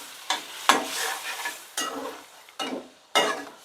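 Boiled mutton is stirred into a sizzling, frying masala, giving about five loud bursts of scraping and sizzling close up, with quieter frying hiss between them and no talk.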